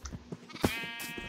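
Sheep bleating in a video game, with several short bleats spread across about a second, one louder cry near the middle and quieter calls around it, with no talk.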